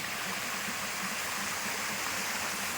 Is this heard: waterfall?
yes